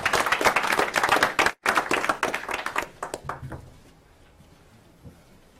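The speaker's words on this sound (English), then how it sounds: "One more round of applause for Keeley." Applause from a small audience at a town board meeting, brisk and dense for about three seconds after a brief dropout, then thinning to a few scattered claps and fading into room noise.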